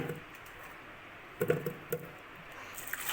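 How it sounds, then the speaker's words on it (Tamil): Washed taro roots dropped into a pressure cooker, a few soft, wet thuds and knocks in quick succession after a quiet start, faint and close. "இப்போ இதை நம்ம வந்து குக்கரில் சேர்த்துக்கலாம் இப்போ குக்கரில் சேர்த்துக்கிறேன்"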